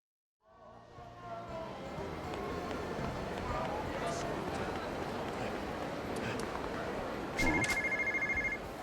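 A telephone rings in Yakuza 0, a repeating electronic ring that enters near the end over a busy, steady game backdrop of street ambience and movement.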